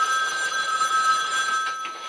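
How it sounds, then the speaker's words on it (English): A telephone rings with a steady, high electronic trill that holds for about two seconds over faint background hiss. "we'll just have you answer the phone"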